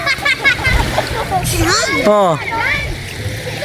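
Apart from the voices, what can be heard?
splashing of children jumping into the sea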